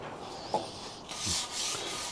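Brief, quiet rubbing strokes of sandpaper lightly sanding the corners of a wooden workshop doorframe, a few soft scratchy passes close by with short pauses between them.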